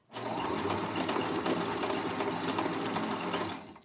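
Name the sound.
sewing machine stitching lingerie fabric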